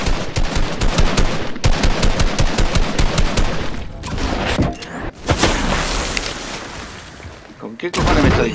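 Rapid bursts of automatic gunfire in Fortnite rattle loudly and close, broken by short gaps and a few single heavy shots, with a voice speaking over the shooting.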